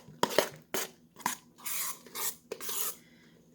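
Blueberry muffin batter gets stirred in a bowl with a utensil, giving close, scraping and rasping strokes, a few sharp taps against the bowl and longer rubbing passes, with no talking.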